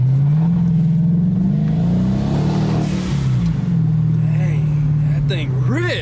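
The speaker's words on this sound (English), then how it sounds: "Let me open these windows and let's hear some boost." A 2018 Dodge Charger police car engine revs hard under boost, a loud sustained roar with the windows down, easing briefly before climbing again.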